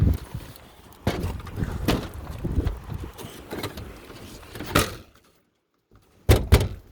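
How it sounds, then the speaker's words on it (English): A door is slammed shut repeatedly, with several loud, close thuds over rustling and handling noise, then a short quiet gap before a final sharp bang. "Is that door closed? No. No, I gotta slam it again."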